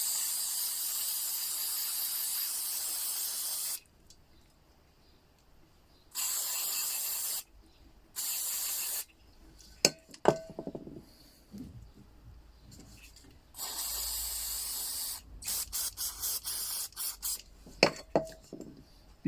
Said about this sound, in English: I used the carb cleaner because it just seems to work